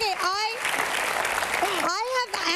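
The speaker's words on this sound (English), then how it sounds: "Give her a round of applause." An audience at a pajama-party talk show bursts into steady applause mixed with cheers and whoops, sustained loudly throughout while voices call out over it.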